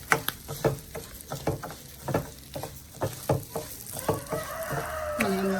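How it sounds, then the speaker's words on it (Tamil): Vermicelli is roasted in ghee in a pan for Navaratri payasam, with soft sizzling under a rhythm of repeated spoon stirs and scrapes, close up and without talk. "நெய் இருக்கிறபடியாக வறுக்கிறேன்"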